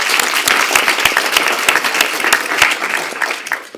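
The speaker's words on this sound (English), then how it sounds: "Give her an applause." Audience applause for a speaker welcomed to the stage at a scientific talk on environment and health, a dense steady wash of many hands clapping, close and loud, fading slightly toward the end.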